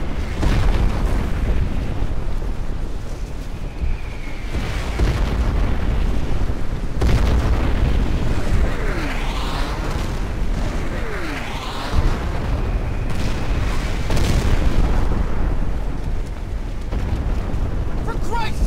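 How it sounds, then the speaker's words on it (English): An airstrike in the video game Crysis unleashes a barrage of heavy explosions, deep booms and rumbling blasts rolling one after another with whistling incoming shells, loud and continuous across the battlefield. "Airstrike started!"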